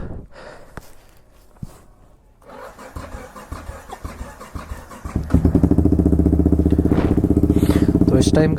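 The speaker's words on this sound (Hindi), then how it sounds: "सो पहले कॉल स्टार्ट करते हैं अपनी बाइक" A Yamaha R15 V4 motorcycle fitted with an Akrapovic exhaust cranks and fires up, settling into a loud, steady idle close by after a few quieter clicks and rustles.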